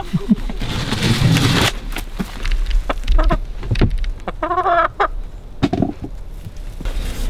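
Backyard chickens squawk and cluck in a busy, noisy stretch, with scattered sharp calls and flapping-like bursts over rough background noise, fairly close.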